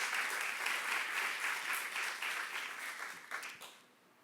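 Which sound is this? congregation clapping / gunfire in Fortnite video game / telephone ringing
congregation clapping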